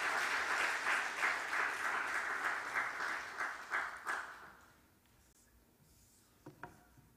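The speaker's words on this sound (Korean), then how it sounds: "자, 박수해 주시기 바랍니다." A church congregation at an Easter service applauds for about four seconds, then the clapping fades into quiet room tone broken by a couple of faint knocks.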